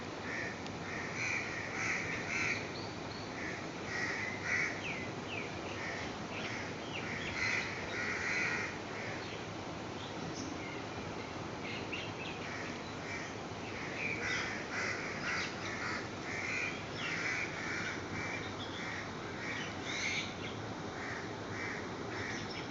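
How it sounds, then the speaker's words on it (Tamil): Many crows caw repeatedly in overlapping calls, a steady noisy chorus at moderate distance with no talking. "இந்த பறவைகள் ஒரு பக்கம் கத்திக்கிட்டு இருக்குது"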